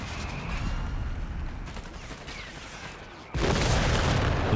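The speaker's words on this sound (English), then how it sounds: "Artillery barrage on the way." Artillery barrage in Company of Heroes 3, a continuous rumble of dense booms and blasts that steps up abruptly louder and brighter toward the end, steady and close with no talk.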